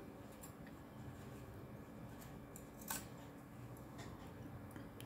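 Scissors snip off the excess fabric of a handmade scrunchie sewn from fabric scraps, one faint crisp cut within a quiet, hissy room.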